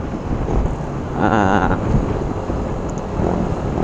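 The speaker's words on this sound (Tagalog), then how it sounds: "At medyo malakas na yung hangin kasi umuulan na doon sa una." Strong wind roars and buffets a lavalier mic on a Yamaha NMAX motorcycle rider at speed in rainy weather, a steady broadband rush with a brief louder gust in the middle and no talking.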